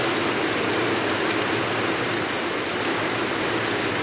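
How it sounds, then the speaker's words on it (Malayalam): Heavy rain pouring steadily, a dense unbroken hiss at an even level throughout with no pauses and no voices. "അത് കഴിഞ്ഞപ്പോഴത്തേന് നല്ല മഴയും വന്നു."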